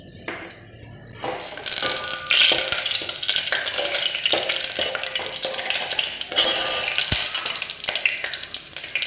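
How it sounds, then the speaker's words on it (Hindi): A bay leaf and cardamom pods hit melted ghee and sizzle loudly and steadily, close up, with occasional clinks and stirring scrapes against the pan. "मैं इसमें एक तेज़पत्ता चार छोटी इलायची डालूंगी"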